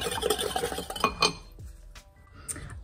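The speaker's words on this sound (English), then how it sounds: "just whisk it up until the sugar and salt dissolve" A tiny whisk rattles and scrapes quickly against a bowl while dissolving sugar and salt into pickling brine for red onions, close and busy at first, then slowing to a few scattered clinks.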